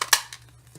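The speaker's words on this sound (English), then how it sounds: "this is going to be punching 2 layers" A handheld paper punch snaps shut through two folded layers of paper for a Halloween treat bag, giving a sharp close click followed by a couple of fainter clacks as it is released.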